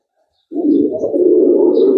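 Pigeons at a pigeon club in Xirdalan coo steadily and close by, a low throaty rolling call that starts abruptly and continues without pause.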